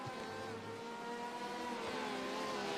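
Porsche GT race cars roar through a racing game, their engines droning at high pitch with rising and shifting tones, steady and fairly close throughout.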